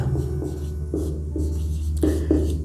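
Chalk or marker strokes on a board while a maths derivation for a class 12 derivatives lesson is written out, a continuous scratchy scrawl with short pauses between strokes, close and steady.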